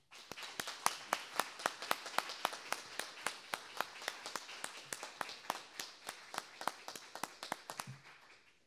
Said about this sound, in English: a huge round of applause for Mark Lee and the panel